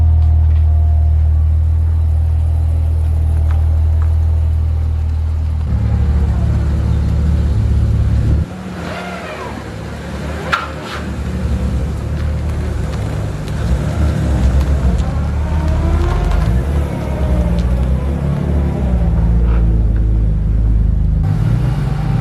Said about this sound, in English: Right, so we just pushed start the car.